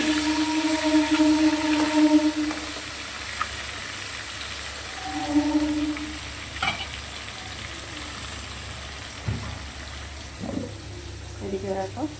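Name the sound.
frying katla fish in oil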